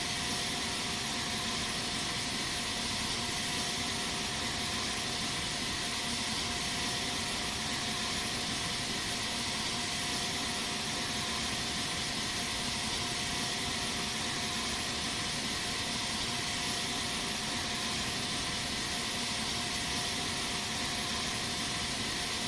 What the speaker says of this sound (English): I've actually had good success using the thrust reversers on this